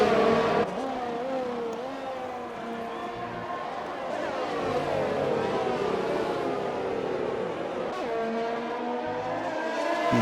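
Formula 1 race cars in a video game at the Belgian Grand Prix whine with high engine tones that drop under braking and climb again on acceleration, a continuous loud drone with gear shifts near the start and end.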